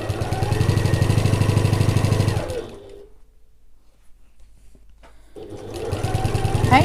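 Sewing machine stitching an evening bag, running in a steady close whirring burst, pausing briefly, then starting up again.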